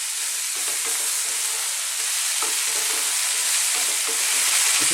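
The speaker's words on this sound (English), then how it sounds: "I'm now going to add in my potato or aloo and my green beans. And again, let's just stir fry these around another 2 minutes." Potato and green beans stir-fry in a pan for a vegetable masala curry, giving a loud, steady hiss of sizzling with soft, irregular scrapes and clicks of stirring throughout.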